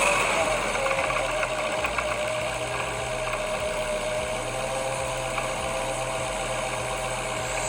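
Engine fitted with a damaged 3.8 Whipple supercharger running steadily at idle with a constant mechanical rattle and whine, close and moderately loud.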